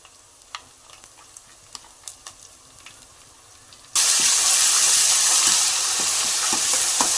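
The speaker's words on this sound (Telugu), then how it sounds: "అల్లం వెల్లుల్లి పేస్ట్లో పచ్చివాసన పోయేదాకా బాగా ఫ్రై చేసుకోవాలి" Ginger garlic paste frying with onions in a pan: quiet stirring ticks at first, then a sudden loud, steady sizzle and hiss as the paste hits the hot oil, with scattered scraping clicks continuing through the frying.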